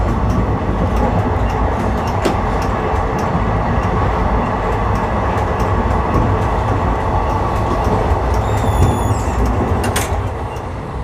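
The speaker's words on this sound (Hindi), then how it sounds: "93 भी हमारी ट्रेन चल रही है इस समय, 100 मारने वाली है।" The Narmada Express passenger train runs at speed between Katni South and Jabalpur, heard from on board as a loud, continuous roar of wheels and carriage noise with occasional sharp rail clicks and a brief squeal near the end.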